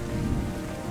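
Steady rain in the video game Terra Nil: a soft, even hiss of falling drops with a low rumbling undertone, continuous for a brief moment with no voices.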